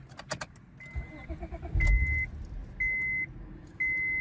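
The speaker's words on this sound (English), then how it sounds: "So I'm gonna go in there, turn the car on" A Honda Accord engine cranks and catches after a brief key jangle, followed by a settling idle with repeated dashboard chimes beeping in an even pattern nearby.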